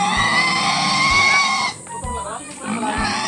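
A pig squealing loudly and continuously during slaughter in the Philippine countryside, the harsh cries overlapping with people talking nearby.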